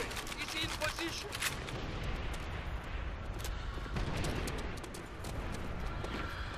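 Distant rumbling artillery and scattered gunfire roll through a Call of Duty: World at War team deathmatch, a steady muffled barrage with occasional sharper cracks, faint voices mixed in.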